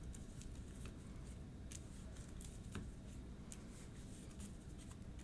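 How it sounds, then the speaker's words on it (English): A deck of cards for the DC Deck-Building Game is shuffled by hand, with soft continuous riffling and scattered light snaps that stay quiet and close throughout. "Shuffling up as best I can here, just in the hopes we get something good."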